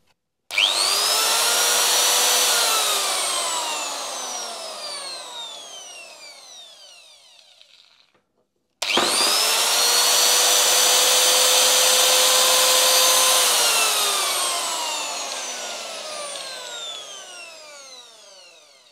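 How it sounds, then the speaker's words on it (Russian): A DCA ASM04-150 angle grinder is switched on twice. Each time it jumps straight to a loud, high whine, runs steadily, then winds down as its pitch falls after switch-off. "Предлагаю включить и послушать, как она работает."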